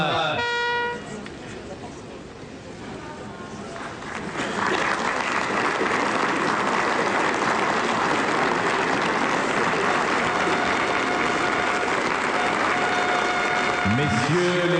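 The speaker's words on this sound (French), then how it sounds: "Vous pouvez applaudir cet homme" A crowd applauds a military pilot newly certified on the C-147 at an air force ceremony, sustained dense clapping swelling after a few seconds, with horn-like tones and a voice at the start.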